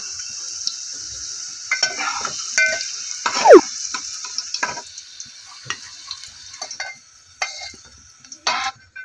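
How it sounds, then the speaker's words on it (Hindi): Potato pieces fry in a pan with soft crackling, punctuated by irregular spoon scrapes, ticks and clinks against the cookware, close up and varying in loudness. "बटाटा अच्छे से फ्राई हो चुका है"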